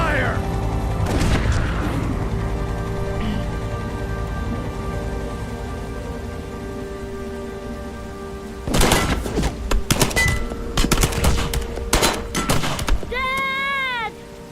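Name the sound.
gunfire from a video game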